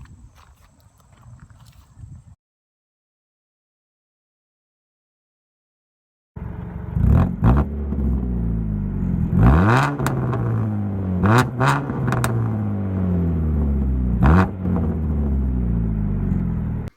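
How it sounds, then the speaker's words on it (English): A 2015 Dodge Dart SXT with an aftermarket exhaust starts up after a quiet gap, then revs repeatedly in rising and falling sweeps, loud and close over a steady idle rumble. "I'll actually include a little clip of the exhaust so you can hear what it sounds like."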